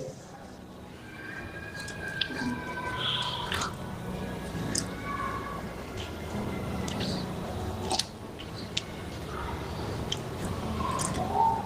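Water splashes and drips while the left leg is washed during Islamic ablution (wudu). Wet squishing and trickling sounds run steadily for several seconds, with occasional sharper drops.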